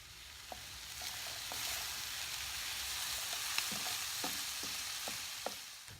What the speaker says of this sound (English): I've got the vegetables sauteed